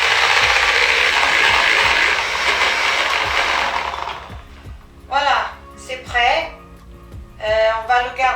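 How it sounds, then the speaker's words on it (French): Egg whites beaten to stiff peaks for a lemon cream, a steady dense whirring of an electric mixer for about four seconds, then stopping as people speak in short bursts nearby. "Vamos bater as claras dos ovos em castelo."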